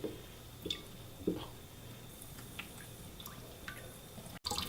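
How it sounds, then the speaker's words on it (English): Water drips from a Berkey water filter element rinsed under cold tap water, falling in irregular small splashes over a low steady background hiss. "run it under the cold water until the water that comes out from this end is clear"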